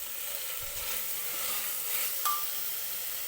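Green chickpeas sizzling as they fry in a pan on the stove, stirred now and then, producing a steady hiss with soft scraping and one brief metallic clink near the end; no voices.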